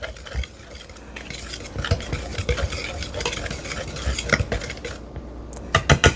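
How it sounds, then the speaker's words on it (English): Whisk stirring baking soda and kosher salt together in a bowl for lemon sugar cookies, a steady close scraping and clinking run with a few sharper taps near the end, no talking. "we're going to be adding 1 teaspoon of baking soda and 1/2 teaspoon of kosher salt. And we'll just whisk that together."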